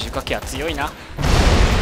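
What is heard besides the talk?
big explosion in the video game Dead Rising 3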